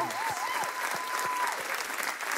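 A standing ovation at a televised music quiz show, with dense, steady applause from a large crowd that fills the room, close and loud throughout.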